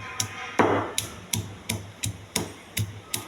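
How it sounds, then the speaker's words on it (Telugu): A garlic clove being pounded, about nine sharp, evenly spaced knocks close by, each a crisp thud with a brief ring, no talk. "వెల్లిపాయ కొంచెం ఒక్క ముక్క దంచాలండి."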